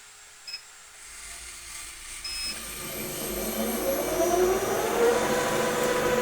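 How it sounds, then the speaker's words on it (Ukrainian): A 1M61 lathe motor fed by a frequency converter on 220 volts spins up from quiet, its rising whine and hum growing steadily louder and higher until it settles into a continuous mechanical drone. "поставили на 220 і ось як запускається станок"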